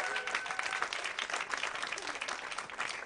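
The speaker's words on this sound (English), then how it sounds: "give yourselves a round of applause" A comedy festival audience breaks into sustained clapping in a live venue, a dense, even wash of applause lasting the whole moment, fairly distant with a faint crowd murmur underneath.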